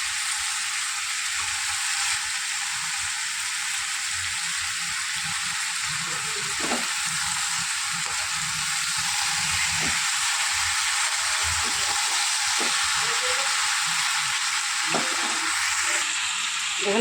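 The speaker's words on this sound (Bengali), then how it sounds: "দেখুন পুঁই শাক দিয়ে ভালো করে নাড়াচাড়া করে নিয়েছি" Vegetables and Malabar spinach fry in a pan with a steady, continuous sizzle, while a utensil scrapes and stirs at irregular intervals throughout.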